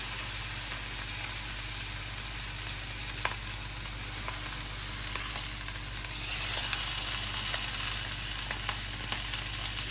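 Lamb pieces sizzle steadily in a hot pan while being sealed for a Moroccan tagine, a continuous close frying hiss with faint occasional pops and a low background hum.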